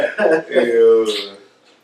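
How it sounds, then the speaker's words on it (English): A man on a podcast clears his throat in a few rough, voiced bursts, close and loud, tailing off into a breathy rasp before quiet. "I'm clearing my throat."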